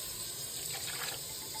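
Water runs into an emptied Goya tomato sauce can in a kitchen while Spanish rice is being made, a brief close trickle and fill over a steady hiss.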